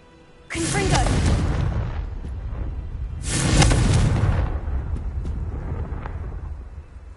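A Confringo blasting spell explodes in the Hogwarts Legacy video game, heard as two loud, broad booming bursts, each rumbling on for about two seconds before fading, close and dominant with a few faint clicks afterward.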